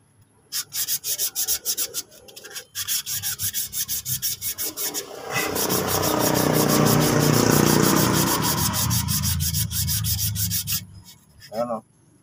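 Sandpaper scrubs rust off a car brake part in rapid back-and-forth rasping strokes, first in short bursts, then a steady sustained rub, close and loud, with no talking.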